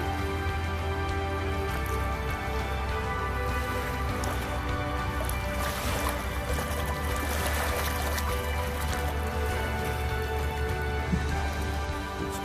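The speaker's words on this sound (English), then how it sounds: "This is a burst pipe or something. Has to be a burst pipe." Water sprays and hisses from a burst pipe outdoors in drizzly weather, a continuous, fairly loud rushing wash that never lets up, with no voices.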